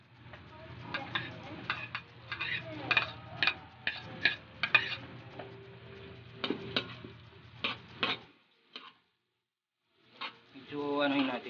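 Garlic fries in butter in a pan, giving a soft crackling sizzle that is broken up by stirring, scraping and clinks of a utensil, with several sharp taps. A person talks over it.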